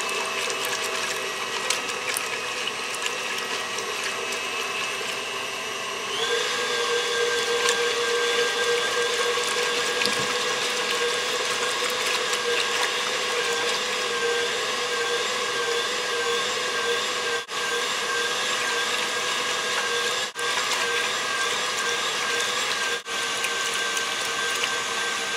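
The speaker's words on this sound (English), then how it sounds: "put your other mixture in the electric mixer to help get the extra lumps out" An electric mixer beats egg whites for a milk tart with a continuous whirring, grinding hum that steps up in speed partway through and then runs steadily, close by, with brief dips and no talk.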